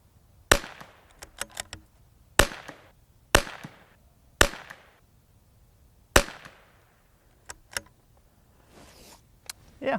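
Sharp .22LR rifle reports from a Tikka T1X MTR firing RWS ammunition, six or seven crisp single shots spaced irregularly across the span, each with a short ringing tail, close and loud against quiet outdoor background.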